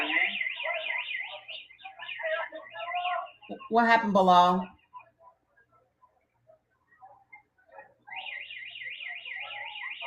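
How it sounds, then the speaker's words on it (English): An electronic alarm warbles loudly in a rapid rising-and-falling pattern, cutting out while a voice speaks and then sounding again for the last couple of seconds. "Do you hear the alarm going off?"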